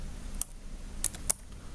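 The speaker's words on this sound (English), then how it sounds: "now let me again log in, let me type it" Password typed on a computer keyboard while logging into a wireless controller, a few sparse, faint key clicks spaced apart over a quiet background.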